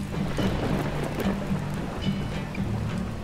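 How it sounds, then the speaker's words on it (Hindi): Heavy rain pours steadily in Meghalaya, India, a dense continuous hiss of drops hitting surfaces close by, with occasional low rumbles beneath and no voices. "यहाँ से निकलने के साथ ही भारी बारिश होना स्टार्ट हो गया।"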